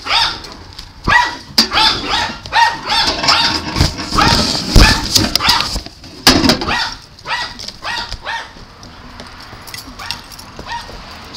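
A dog barks repeatedly in loud, close bursts, some clustered and some spaced apart, with a few yips and whimpers between and quieter stretches toward the end.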